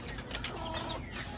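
Soft chicken clucks and scattered bird chatter against a steady, noisy outdoor background, with a brief flutter-like burst near the end.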